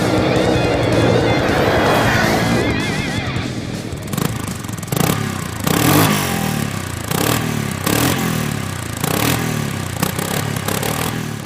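A Kymco Maxxer 450i SE quad with a liquid-cooled 450 engine accelerates hard, its loud revving engine rising and dropping in pitch through repeated gear changes with clattering mechanical noise.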